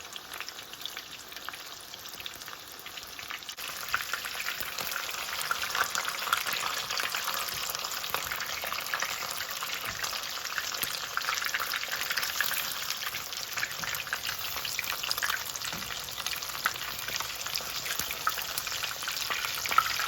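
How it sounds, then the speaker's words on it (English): Fish deep-frying in oil that comes halfway up the fillets, a steady, dense crackling sizzle heard close up, continuous and slightly building, with no talking. "You want that oil to get up in there to get the center of the fish cooked."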